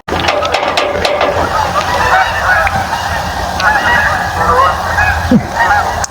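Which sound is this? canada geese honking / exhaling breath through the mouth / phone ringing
canada geese honking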